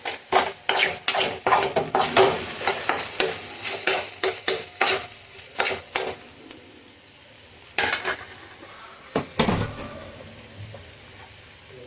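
Mutton keema curry stirred in a pan, a spoon scraping and clacking against the metal in quick bursts over a steady sizzle, loud and close with brief pauses.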